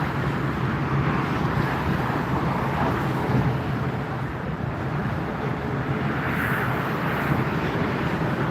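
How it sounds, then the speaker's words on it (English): A Croatia Airlines airliner from Zagreb arrives at Frankfurt Airport, a steady, loud jet roar that holds for the whole stretch with no pauses. "So at the moment, Croatia Airlines from Zagreb, Croatia is arriving to Frankfurt."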